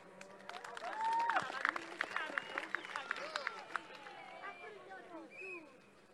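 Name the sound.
crowd applause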